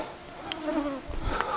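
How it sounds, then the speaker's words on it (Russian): Mosquitoes buzzing around a hut in the green taiga, a steady, faint insect drone with a couple of brief higher whines. "Комарье."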